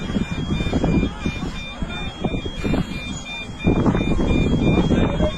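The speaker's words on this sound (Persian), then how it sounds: "تموم الارمای هواپیما روشن شد" Airplane cockpit alarms sounding during an emergency landing on a desert runway, steady electronic tones running continuously under frantic crowded voices and cabin noise.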